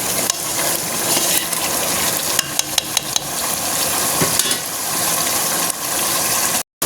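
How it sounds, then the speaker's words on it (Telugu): Gongura chicken pickle stirred in a pan over a medium flame: a loud, close, continuous sizzle with a short run of sharp metallic clinks from the utensil, ending in a sudden cut. "గోంగూరను ఒకసారి కలుపుతాము."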